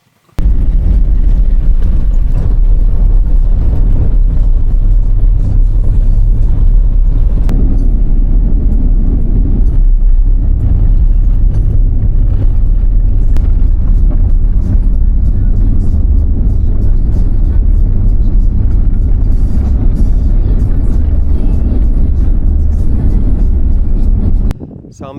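A 4WD rolls along a corrugated gravel road, giving a loud, constant low rumble with steady rattling vibration for the whole stretch.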